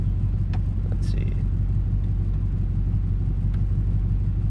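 A 1998 Chevy 1500 pickup with a big-block 454 V8 and 4L80E transmission runs steadily nearby, giving a loud, constant low rumble throughout.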